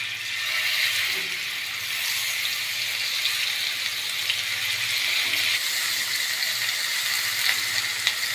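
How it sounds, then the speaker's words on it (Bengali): Chicken pieces fry in hot oil in a frying pan on a gas stove, giving a steady, bright, close sizzle that holds evenly throughout. "এখন চিকেনের পিসগুলো দিয়ে ভেজে নিব।"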